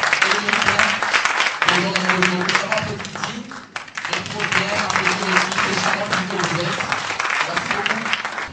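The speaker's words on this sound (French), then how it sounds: "Je vous prie d'applaudir encore une fois pour papa." An audience applauds at a televised quiz-game event, with sustained crowd clapping that dips briefly midway and then picks up again, while a voice talks over it.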